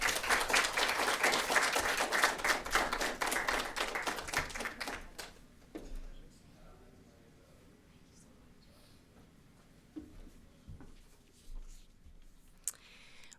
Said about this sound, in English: We have to give another round of applause to the Buell family for their courage